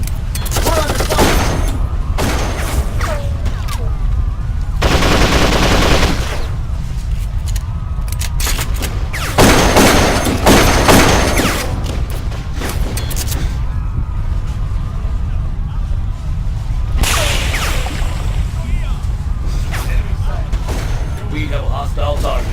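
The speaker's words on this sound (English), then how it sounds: "We're under fire." Sustained gunfire in a first-person shooter game, with repeated bursts and heavy booms through most of the stretch, loud and dense, mixed with radio-style voice callouts throughout.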